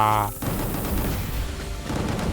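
Gunfire in the video game Gungrave G.O.R.E crackles in loud, rapid bursts after an opening tone, with dense shots and explosive thuds continuing to the end.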